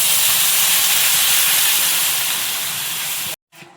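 Water poured into a hot pan of fried tomatoes gives a loud, sustained broadband sizzle and steam hiss that cuts off abruptly near the end.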